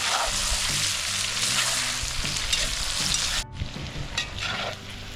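Onions and carrots fry with pork in a pot for Transcarpathian pork bograch, a steady loud sizzle and crackle that drops suddenly to a quieter, sputtering fry with occasional stirring noises.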